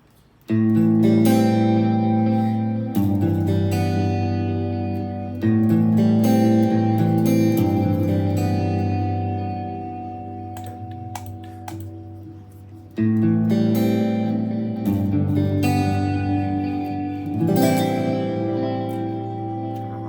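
Clean electric guitar chords ring out through a Nolly amp plugin, a few strummed chords sustaining and slowly fading, with no talking.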